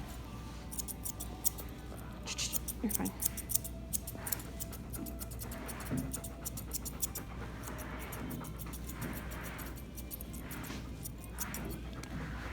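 Curved grooming scissors snip around a goldendoodle's face in a series of quiet, crisp metallic clicks, some in quick bursts, over a steady background hum, with a brief soft spoken reassurance.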